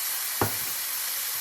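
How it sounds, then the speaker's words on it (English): Tomatoes dropped into a hot skillet, one sharp hit followed by a strong, continuous hissing sizzle, close and alone. "I'm going to put those tomatoes in now"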